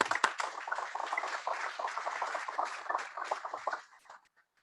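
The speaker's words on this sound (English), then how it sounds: "So let's give a round of applause for the ambassador." An audience claps for an ambassador at an ocean-themed gathering, a dense patter of many hands at moderate distance that holds steady, then thins and fades out near the end.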